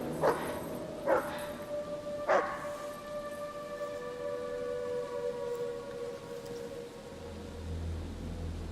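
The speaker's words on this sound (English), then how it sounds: "There's doggy somewhere. Oof. They sound like big" Three deep barks from large dogs ring out early on, echoing from some distance, followed by a long sustained wail that slowly fades while a low rumble stays underneath.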